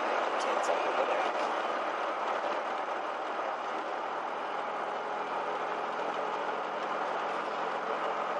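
A car engine lugging in third gear as it pulls from about 500 RPM on an evening drive near Birds Hill Park. It gives a steady, loud, low drone from inside the cabin that holds throughout.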